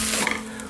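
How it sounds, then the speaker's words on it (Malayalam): Raw kaima rice being stirred while it roasts in a pan over moderate heat, a brief dry scraping rustle with a faint sizzle underneath. "ഇത് റൈസ് ഒന്ന് വറുത്തെടുക്കണം, ചെറിയ ചൂടിൽ വെക്കാതെ, അധികം വലിയ ചൂടിൽ വെക്കരുത്."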